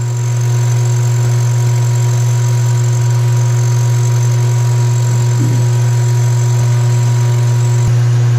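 A Bridgeport milling machine runs steadily while a sharp carbide bit cuts the base of an engine cylinder, giving a loud, continuous low hum and drone with a faint scrape partway through, close up and with no speech.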